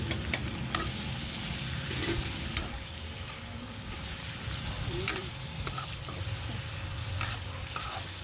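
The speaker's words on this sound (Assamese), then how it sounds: "অলপমান হালধি, এতিয়া ভালদৰে লৰাই লৈছোঁ।" Local chicken frying in a pan with turmeric, a steady sizzle under repeated scraping stirs of a spatula, with occasional sharp clicks against the pan, close and moderately loud.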